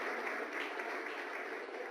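Steady applause from a group of squash players welcoming India's foreign minister at the inauguration of new squash courts, Major Dhyan Chand National Stadium, Delhi; dense, even clapping filling the whole stretch without breaks.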